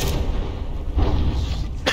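An explosion strikes a battleship in the naval combat game From The Depths, a deep, rumbling boom that fills the clip with sustained low-end thunder and a sharp crack near the end.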